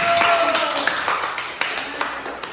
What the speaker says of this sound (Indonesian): Berikan dulu aplaus untuk kelompok 1